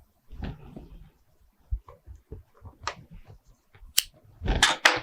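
Scissors cut fabric piping for a sewn pillow, with scattered close snips and rustles, then sharper, louder crisp cuts near the end, with quiet handling gaps in between.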